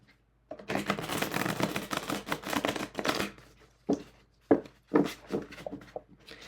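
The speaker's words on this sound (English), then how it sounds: "So it shuffles well, and I will give you a demonstration of that." A deck of dense paper playing cards gets riffle-shuffled close by: a long rapid fluttering burst, then several shorter sharp riffles and snaps as the cards are bridged and squared.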